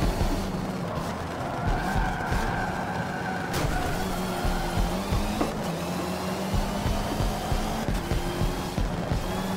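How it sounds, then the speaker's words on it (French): A powerful car in the racing game Forza Motorsport 7, played on a Logitech G920 wheel, roars continuously with a steady engine drone and tire squeal, loud and close, with no talking. "Elle est grave puissante la voiture."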